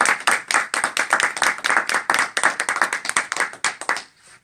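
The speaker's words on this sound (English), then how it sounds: "Give them a round of applause," Audience applause at a live event, a burst of close, brisk hand clapping from a crowd that runs steadily for a few seconds before quickly dying away.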